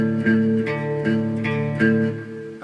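Electric guitar playing a riff slowly, alternating between the sixth and fifth strings with sustained, ringing notes in a steady, deliberate rhythm, close and clear with no talking.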